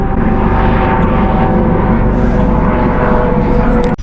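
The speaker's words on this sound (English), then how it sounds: "A Coast Guard helicopter." A Coast Guard helicopter flies overhead, its steady, loud rotor and engine roar filling the air without a break and dropping away only at the very end.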